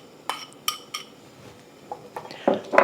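Drained fungus tipped into a 5.5 quart Le Creuset Dutch oven, giving a few scattered clinks and knocks of metal and pot, then louder clattering thuds near the end, with no voices.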